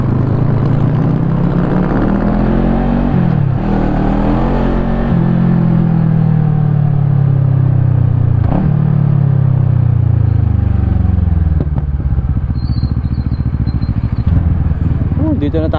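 A Bristol Bobber 700 motorcycle with its stock exhaust pipe rumbles loudly and close, revving up and down in long swells over a deep, steady idle throb, in Santa Maria, Bulacan.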